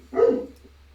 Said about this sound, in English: That dog is raging.